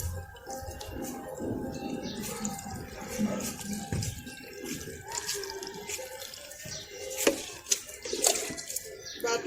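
Water is poured gently over a potted lotus bulb, giving a soft, steady trickle with scattered drips and splashes close by.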